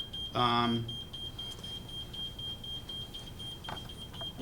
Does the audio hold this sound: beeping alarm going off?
yes